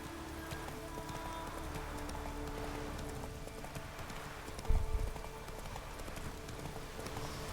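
Horse hooves clip-clopping at a steady walking pace on wet ground in rain in The Witcher video game, a soft continuous patter of rainfall under the hoofbeats with a brief thump partway through.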